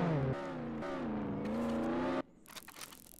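A fast, expensive car in Roblox Jailbreak revs and accelerates, its engine note climbing loudly for a couple of seconds before cutting off into softer crackling and whirring.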